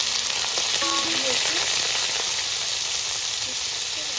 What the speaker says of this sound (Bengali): নুন আর একটু হলুদ দিয়ে একটু ভেজে নেব ভালো করে ভেজে নেবো